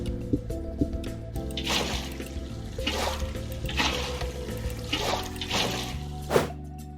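Water spreading and filling blocks in the Minecraft video game gives repeated soft liquid drips and squishy splashes, about five bursts over a steady musical background, with no voices.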